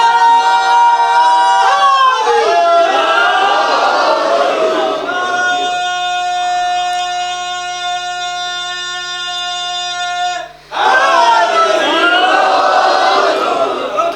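Crowd at a Shia majlis chanting religious slogans together in loud, sustained voices, with a long held tonal stretch in the middle before the group chant returns.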